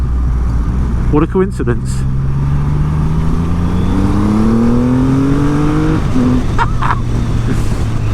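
A 2020 Triumph Rocket 3 motorcycle engine climbs steadily in pitch under acceleration, a loud, close drone with wind rush, while a rider speaks briefly.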